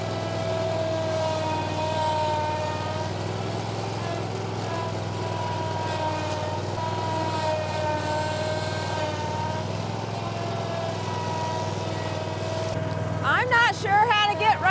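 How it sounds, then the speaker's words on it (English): A string trimmer mounted on a lawn mower deck runs steadily, its engine drone loud and continuous with a harmonic hum, and people talk over it; near the end a sharper, higher burst joins in. "it's a weed whipping machine"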